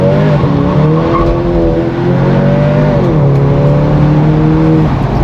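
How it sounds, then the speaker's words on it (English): A Volkswagen Jetta GLI with a Unitronic Stage 1+ tune launches on a dyno with launch control at high RPM, the engine roaring loudly and rising through first and second gears as the tires spin, close and continuous. "It just spins all the way through first and second."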